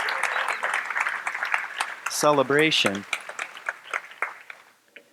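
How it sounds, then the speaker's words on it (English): An audience claps at a talk in a church-like gathering, scattered applause with a voice speaking over it before the clapping tapers off. "I wanted people to clap."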